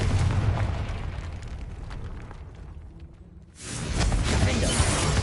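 A Confringo fire spell explodes in a Harry Potter video game, a loud rumbling blast with a roaring tail that dies down, then a second heavy burst swells back in.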